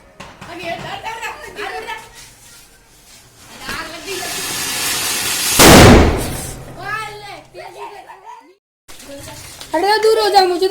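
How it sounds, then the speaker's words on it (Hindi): A firecracker goes off outdoors with a loud, hissing burst lasting under a second, amid excited chatter and children's voices before and after. "बम फोड़ेंगे बम रख के आरू ये मत किया कर"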